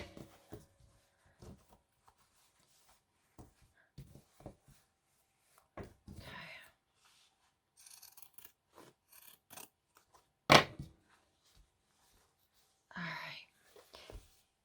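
Denim being cut with scissors for a junk journal page, sparse close snips and rasping fabric rubs with quiet pauses, one sharp click in the middle and soft whispered talk.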